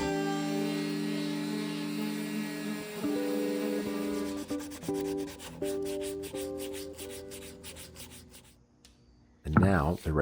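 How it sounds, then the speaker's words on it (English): Hand sanding on a wooden serving board before the epoxy pour, a steady rubbing scrape that runs continuously under a tonal musical backdrop, ending with a brief louder burst. "and do a bit more hand sanding."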